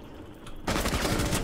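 Rapid burst of gunfire in Rainbow Six Siege, loud and close, opening with a few scattered shots and then breaking into a dense, continuous volley of cracks with no talking.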